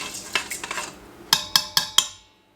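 A seasoned chicken mixture with garlic is stirred in a pot, giving soft scrapes followed by four sharp clinks of a utensil against the rim, close and clear.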